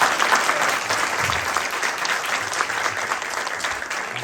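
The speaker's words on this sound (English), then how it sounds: "Can we have a round of applause?" An in-person audience at a county board of education forum gives a round of applause, sustained and fairly loud, a busy crowd of claps that continues without pause through the whole stretch.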